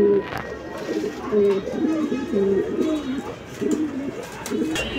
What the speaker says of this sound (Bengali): প্রিয় দর্শক কবুতর দেখেন আপনারা।